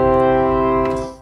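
Pipe organ gamba stop playing a bright, reedy, string-toned sustained chord for about a second before fading, with no voices.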